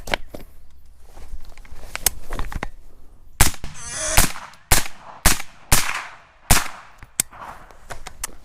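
Gunshots fired while hunting a wild hog in thick Texas brush, several sharp loud cracks spaced through the clip with quieter rustling and handling noise between them.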